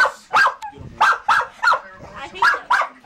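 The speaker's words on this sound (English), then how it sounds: "I hate that bark." A dog barks in a series of sharp, close barks, about seven in quick uneven succession, loud and near during play.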